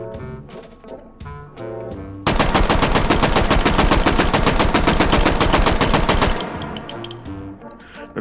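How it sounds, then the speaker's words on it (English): An M3 grease gun submachine gun in a World War II-themed VR shooter fires one sustained automatic burst of rapid, even shots for about four seconds, preceded and followed by a few separate sharp handling clicks and single reports. "The grease gun, it fires slower, but it's more accurate."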